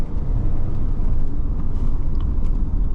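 A 2023 Ford Expedition with an EcoBoost engine cornering, giving a steady, loud low rumble of engine and road noise that stays even throughout, with no voices.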